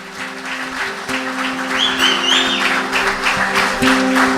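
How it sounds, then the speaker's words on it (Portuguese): A church congregation applauding, a steady mass of clapping with music and organ-like sustained tones underneath and a few raised voices, moderately loud and continuous. "Vamos aplaudir Jesus, irmãos."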